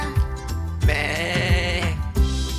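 A sheep bleats loudly and close by in a children's farm-animal song, several wavering calls over a steady musical backing.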